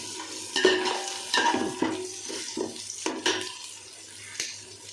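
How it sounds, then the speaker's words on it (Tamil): Onions sauté for chicken biryani in a pan under a low sizzle, broken by repeated close spatula scrapes and knocks against the metal. "வெங்காயம் நல்லா வதங்கிட்டே இருக்குது"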